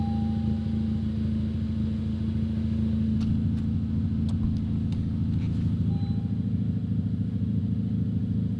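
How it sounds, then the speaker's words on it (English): Honda Civic Type R engine idling after a rebuild, a steady low rumble with an uneven, stumbling pulse from misfires, close and continuous throughout. "actually, idle's way better."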